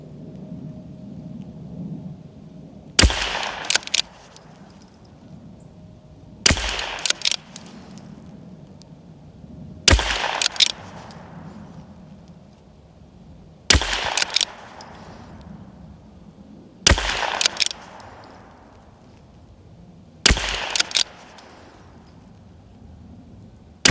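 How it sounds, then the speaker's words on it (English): Six loud, sharp rifle shots from an Anschütz-Accuracy International Fortner 1727F fired at a target, spaced about three to four seconds apart, each a crisp crack with a brief tail, over a low steady background hum. "we're going to do 8 shots because it was a 10-round mag"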